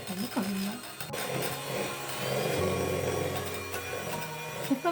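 An electric mixer whirs at high speed, beating sugar and eggs into a creamy batter for a vanilla yogurt cake. The steady, close motor drone grows stronger partway through.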